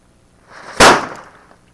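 A kuruvi pattas, a small Indian firecracker, goes off with one sharp, loud bang, rising from a faint fizz and followed by a short decaying tail outdoors.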